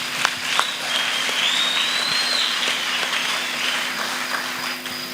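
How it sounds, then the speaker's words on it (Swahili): A conference audience in a church hall breaks into sustained applause, a broad wash of clapping with a few sharper claps at the start and a faint high tone running underneath. "Hebu mpesi makofi basi"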